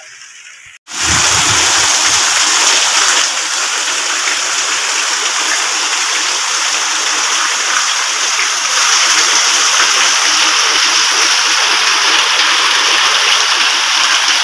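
Heavy rain pours down after a brief quiet start, a dense, loud, steady hiss of falling water that runs unbroken for over ten seconds.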